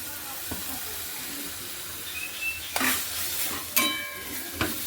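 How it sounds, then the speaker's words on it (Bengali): Soybeans frying in a pan with ground lentil paste nearby, soft sizzling under intermittent scraping stirs and a few sharp clanks of the spoon against the pan. "সয়াবিনগুলো দিয়ে আমি একটু ভালো করে নেড়ে নেব"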